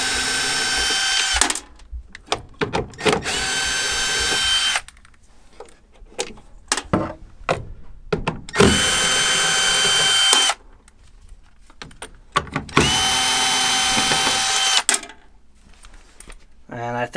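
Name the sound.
power drill removing screws from inducer motor housing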